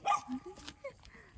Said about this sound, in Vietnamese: Chó sủa.